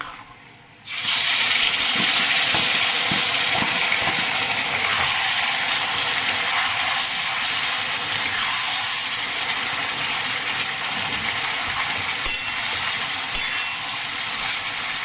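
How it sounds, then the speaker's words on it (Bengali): Marinated chicken hits a hot pot for homemade chicken biryani, setting off a loud, dense, steady sizzle that begins abruptly after a brief quiet moment and holds for the rest of the clip. "এবার আমি ম্যারিনেট করা মাংসটা দিয়ে দিচ্ছি।"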